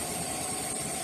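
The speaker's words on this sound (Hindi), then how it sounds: "आप देख सकते हैं इंजन स्टार्ट है और ट्रेन भी चलने के लिए तैयार है।" The Gomti Nagar Express locomotive idles at Lakhimpur station, a steady, continuous engine hum with a low vibration throughout this brief moment.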